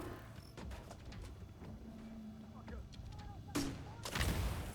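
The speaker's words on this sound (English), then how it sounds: "That's a mortar turret." A mortar turret fires in the video game Battle for Brooklyn: faint scattered pops early on, then two loud, sharp booming blasts near the end, with no talk over them.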